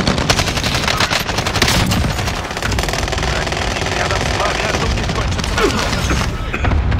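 Cluster bombardment explosions in the Pacific version of the shooter game Call of Duty: Warzone, a loud, rapid, continuous barrage of overlapping blasts and crackling detonations.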